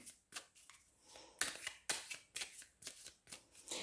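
A deck of tarot cards is shuffled in quick, repeated riffling bursts, quiet and close, each burst a crisp papery rush with short pauses between.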